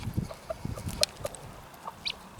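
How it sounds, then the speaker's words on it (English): A rooster calls his hens to food with soft, short clucking and chuckling notes repeated in an irregular series, fairly faint and close, with light rustling underneath. "That's basically the roosters finding food for his heron, his girls."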